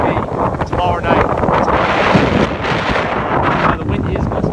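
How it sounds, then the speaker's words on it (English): Strong wind gusting at a seaside beach in South Seaside, with buffeting rumble across the microphone, while a person talks over it. "The wind is gusting right now."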